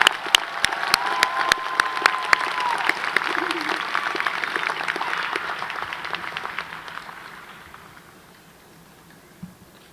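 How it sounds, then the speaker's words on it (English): A commencement crowd at a university graduation applauds for an honored graduating senior, dense clapping filling the hall before tapering off and fading toward the end. "Once more, a round of applause for Wendy Palatino."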